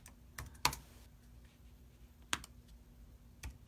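Keys clack on a computer keyboard as a zip code is entered on an online order form, a few sharp separate keystrokes with gaps between them in a quiet room.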